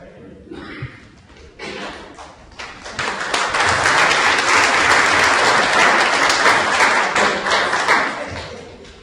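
An audience claps after a talk on the long civil rights movement in Durham, North Carolina, the applause swelling from scattered claps into sustained, loud clapping that fills the room, with some voices mixed in.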